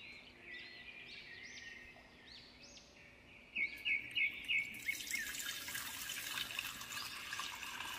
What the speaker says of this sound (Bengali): এত জল তুমি কি করতে মেশাচ্ছ?